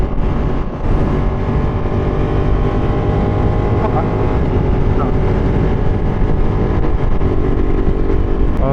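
A Ducati Panigale 959 Corse motorcycle being ridden, its engine a steady, loud drone with harmonic whine throughout, wind and road noise mixed in, with a brief dip near the start.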